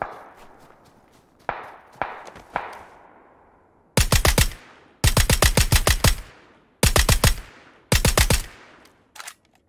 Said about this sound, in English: Oh my god, a lot of shooting, man.